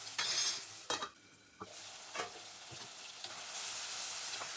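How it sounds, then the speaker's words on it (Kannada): Onion, tomato and spices stir-fried in a pan, a steady sizzle broken by several sharp scrapes and clatters of a spoon stirring, close and alone with no talk. "ಟೊಮೆಟೊ ಹಾಕಿ ಚೆನ್ನಾಗಿ ಫ್ರೈ ಮಾಡಿಕೊಂಡು"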